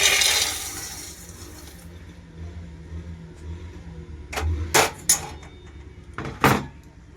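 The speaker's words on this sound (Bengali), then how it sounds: "এবার এই ছোলাগুলো আমি একটাতে জায়গাতে ঢেলে নিচ্ছি।" Freshly roasted chickpeas are poured from a pan into a container, giving a few short, sharp rattling bursts after a stretch of near quiet.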